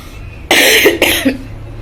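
Two harsh coughs in quick succession, loud and close, followed by quiet.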